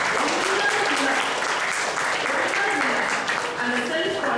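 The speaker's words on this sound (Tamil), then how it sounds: "பார்ட்டிசிபேட் பண்ண அனைத்து குழந்தைகளுக்கும் இன்னொரு கைத்தட்டு கொடுக்கலாம்னு நான் நினைக்கிறேன்" An audience applauds the children who took part in an event, loud sustained clapping filling the whole stretch at a steady level, with a voice faintly audible beneath it.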